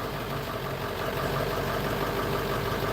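Truck engine idling steadily just after being started, a continuous low rumble with a faint knocking texture, close and moderately loud with no voices.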